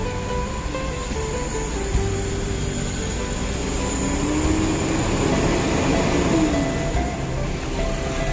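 A Mercedes-Benz OF1623 bus idles and maneuvers while parking, a steady low diesel rumble with a faint rising tone midway, continuous and fairly close, with no talk over it.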